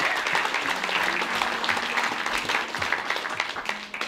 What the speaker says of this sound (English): So let's just give Jenny a round of applause